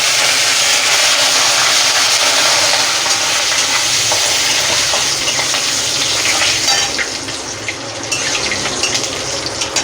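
Dry red chillies and curry leaves temper in hot oil with a loud, continuous hissing sizzle that runs throughout and eases slightly near the end, with no talking.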